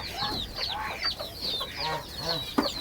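A black farm hen clucks repeatedly at close range, a series of short, chattering calls in quick succession, with one sharp knock near the end.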